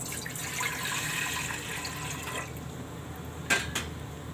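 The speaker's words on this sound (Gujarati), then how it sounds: "તો પહેલાં પાણી આમાં નાખશું." Water poured from a container into a cooking pot on a gas stove before boiling potatoes, a steady splashing pour with a couple of brief sharper splashes near the end.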